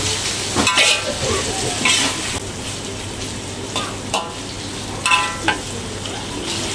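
Carrots dropped into a hot pan of oil sizzle steadily, with a few louder crackling bursts and occasional utensil clinks as they are stirred.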